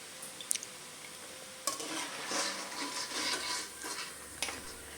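Pakoda deep-frying in oil are turned over, with a few sharp utensil clacks followed by a soft, bubbling sizzle and light scraping, all fairly quiet.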